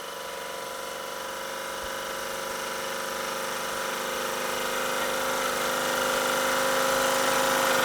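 A Wormar Trojan Model D model steam engine runs steadily and smoothly, a close, continuous mechanical whir with a fine rapid rhythm that grows slightly louder over the stretch, with no talking.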